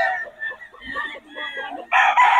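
Stag roosters at a gamefowl market in Bocaue crowing and clucking close by, with overlapping calls that end in one loud burst of crowing.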